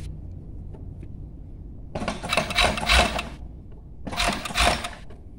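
A sewing machine stitches a sweatshirt in two fast, buzzing bursts, each about a second long, with quiet pauses between them.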